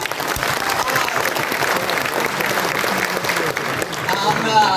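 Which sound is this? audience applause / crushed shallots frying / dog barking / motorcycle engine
audience applause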